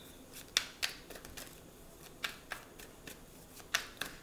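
Tarot cards are shuffled by hand, giving a series of quick, crisp riffling snaps and soft papery slides at close range, fairly quiet, with no talking.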